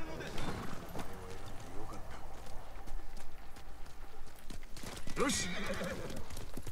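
Horse whinnying and hooves clip-clopping in the video game Ghost of Tsushima, a clear neigh rising near the end over steady hoofbeats, with someone talking throughout.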